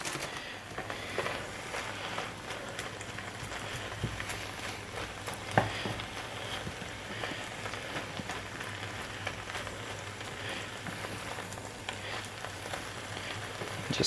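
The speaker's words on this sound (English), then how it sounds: "Just try to mix it up." Spinach and vegetables are stirred in a frying pan, a continuous soft sizzling hiss with faint scraping, one small clack midway, steady and close without talk.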